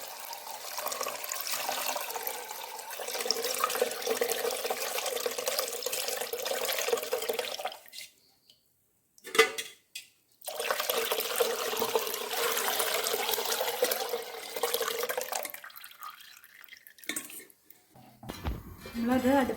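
Filtered cooked milk pours into a pot of palada payasam, a steady splashing rush heard up close for several seconds, breaking off briefly before a second long pour follows.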